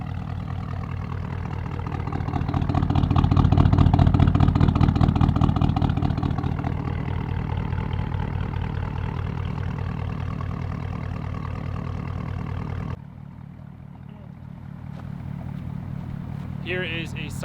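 A Porsche Cayenne's engine idles with a steady, close low rumble that swells briefly early on and then holds even, before dropping to a quieter hum near the end, with a voice talking over it.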